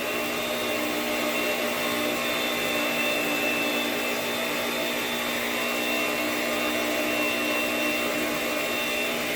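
An electric mixer runs on low, blending the last cup of flour into pumpkin bread batter, a steady whirring motor hum held evenly throughout at moderate volume.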